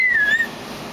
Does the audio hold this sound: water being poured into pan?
no